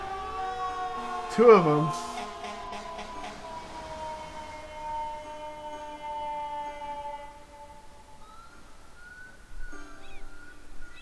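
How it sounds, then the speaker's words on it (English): Emergency vehicle sirens in a modded video game wail in long, sliding tones that fade away, with a brief spoken remark layered over them early on. "I love that they turn off the sirens beforehand too"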